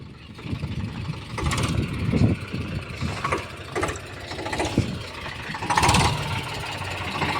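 A tractor stuck in a muddy field keeps its engine running, a steady mid-pitched rumble that surges and rises in pitch several times as it strains, heard from nearby.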